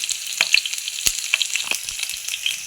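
Thinly sliced onions frying in hot oil in a pan for a carrot fry, giving sparse, sharp crackles and pops over a light hiss, close up with no talking.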